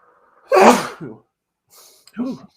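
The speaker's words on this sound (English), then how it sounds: "Sorry, I'm about to sneeze." One sharp, loud human sneeze bursts out close to the microphone, followed by a brief breathy tail, a short pause and a quick spoken remark.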